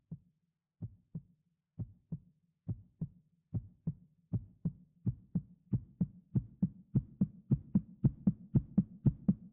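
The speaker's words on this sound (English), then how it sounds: "I think it was just supposed to be like his heartbeat racing." Racing heartbeat sound effect from the video game Zero Escape: 999, a steady train of deep double thumps that grows louder and quickens over the stretch, heard alone with no talk.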